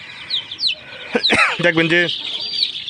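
Chickens cluck and chirp close by, sharp repeated calls overlapping a man's brief speech.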